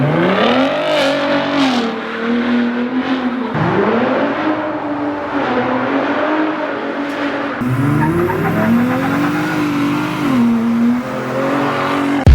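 A Ford F-150 Raptor pickup truck's engine rises and falls through several loud revs and gear changes, close and continuous, with no talking.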